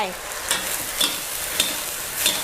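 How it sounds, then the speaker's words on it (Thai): Sesbania flowers stir-fry with fish sauce over high heat in a hot wok, sizzling steadily, punctuated by a few sharp scraping strokes of a spatula stirring at an uneven rhythm. "ผัดค่ะ"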